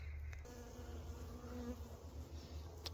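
Honeybees hum steadily in an opened hive during winter feeding, a close, continuous low drone with a few brief louder buzzes from individual bees flying near, and no talk.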